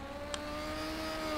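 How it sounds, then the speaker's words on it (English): Legends race cars fitted with 1250 Yamaha motorcycle engines scream at around 9,000 RPM during the SRL Legends final at Ipswich, a steady high-pitched engine drone heard from a distance. "All these cars are in the 1250 Yamaha motorcycle engine, so that's the explanation to the screaming engines"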